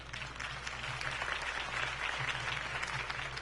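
A crowd applauds after a campaign speech for Harvey Dent in a Batman Telltale video game, steady distant clapping over a low hum, sustained and fairly quiet throughout.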